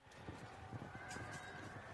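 Light horse cavalry charging in the strategy game Field of Glory 2: a rapid, steady patter of hoofbeats with horse whinnies over a continuous rumble, fairly loud and close throughout, with no talking.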